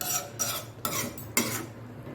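A spoon scrapes through a pot of anchovy dried fish curry simmering in coconut milk, four distinct close stirring strokes in quick succession over a faint bubbling background.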